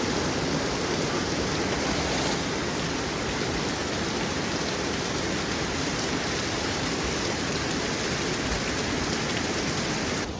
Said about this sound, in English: heavy rain pounds the metal roof with constant loud clattering